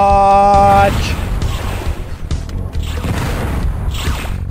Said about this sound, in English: I got a missile for you.